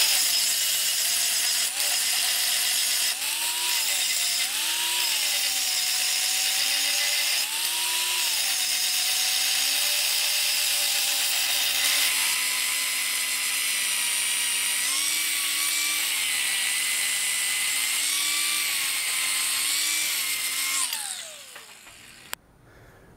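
An angle grinder smooths a steel weld seam that was left unbevelled on the inside, giving a loud, steady high-pitched whine with slight pitch wobbles as the load shifts. The grinding runs continuously for about twenty seconds, then spins down and stops.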